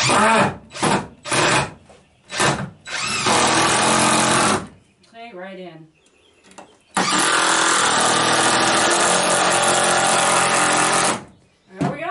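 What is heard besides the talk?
impact driver driving screws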